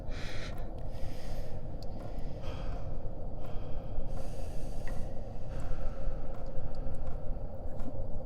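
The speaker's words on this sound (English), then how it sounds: "It was my own breathing." Heavy, nervous breathing in the dark, close and loud: a steady run of panting breaths with snorts and sighs, hyperventilating and alone, with no talk.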